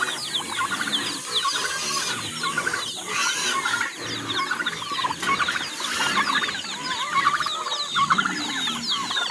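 A flock of farm chickens clucks continuously, with overlapping close and distant calls forming a busy, steady chatter with no one speaking.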